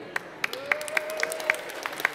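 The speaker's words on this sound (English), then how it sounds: "That's worthy of applause, Grant." Slow, evenly spaced claps, about one every quarter second, crisp and fairly close, with a faint ringing tone underneath.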